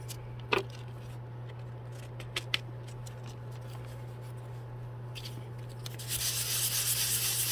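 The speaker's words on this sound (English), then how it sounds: "Same process for the sandpaper goes for the top to give you that texture." Coarse sandpaper rubs across the lid of a cooler to rough up its texture, giving faint scratchy strokes with a few sharper scrapes, then a steadier, louder sanding hiss toward the end.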